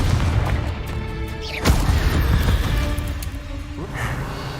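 A Confringo blasting spell explodes in a Hogwarts Legacy battle, a sharp boom near the middle of a dense mix of combat effects and music, with other spell impacts and rumble around it.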